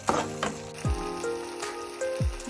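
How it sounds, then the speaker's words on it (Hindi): Masala for Punjabi-style rajma sizzles and fries in a pan, a steady close crackle with occasional soft scraping or stirring sounds, no talking. "ये भून रहा है"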